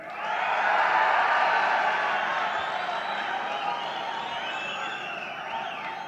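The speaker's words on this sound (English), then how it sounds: "the crowd went wild when Maina Njenga was introduced by Raila Odinga" A large outdoor political crowd roars and cheers steadily as ex-Mungiki leader Maina Njenga is introduced by Raila Odinga, a dense sustained wall of voices that swells early and holds loud throughout.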